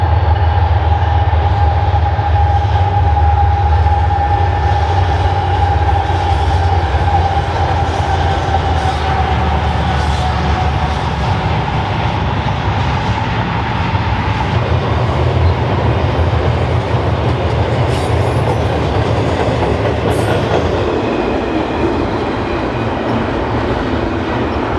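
GE Evolution locomotives haul a train on the Fort Worth Subdivision, a loud, continuous diesel drone with steady engine hum and rolling wheel noise passing close for the full length, without pause.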